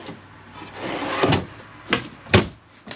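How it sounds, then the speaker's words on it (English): A pull-out pantry drawer in a 2025 Dynamax Isata 3 Class C motorhome slides out with a rolling rumble, followed by a few soft knocks and thuds, close by and without speech. "Don't forget about your pull-out pantry drawers."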